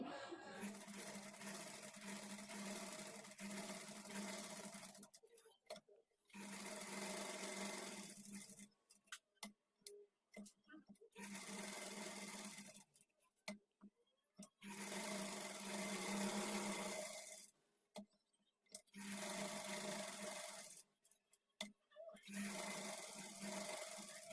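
A sewing machine stitches a blouse lining to the main fabric, starting at the neck. It runs in long, steady, loud whirring bursts separated by short silent pauses while the fabric is repositioned.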